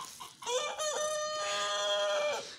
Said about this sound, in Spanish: Ahí el gallo, nuestro cantarín.